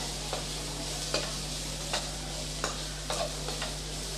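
Onion and tomato sauté in a pan for vermicelli biryani, a soft continuous sizzle broken by regular spatula scrapes roughly every second, close up over a steady background hum.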